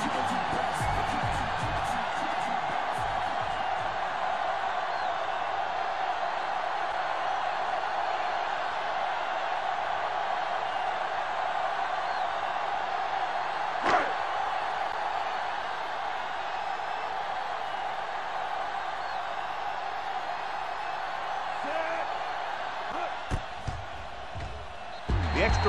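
Steady stadium crowd roar from a Madden NFL 07 football game on PS2, a continuous wash of cheering with an occasional sharp thump, sitting under a commentator's voice.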